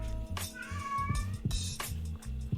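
A cat meows repeatedly outside a door, with several drawn-out, fairly loud cries over a low steady background hum.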